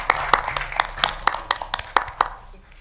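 A small group claps at a City of Romulus council meeting, about a dozen distinct, fairly brisk hand claps ringing out in an uneven rhythm before fading.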